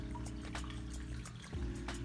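Water and small tropical fish such as guppies pour from a bag into a 20-gallon aquarium, a faint ongoing trickle and splash over a low steady hum, with a louder gurgle near the end.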